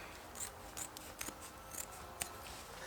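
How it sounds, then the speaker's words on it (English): Scissors snip through leftover towel fabric being trimmed for a homemade sound absorption panel, several quiet, close crisp cuts in an uneven rhythm over a soft hiss, with no talking. "we're going to cut this off so that everything will fold over nicely"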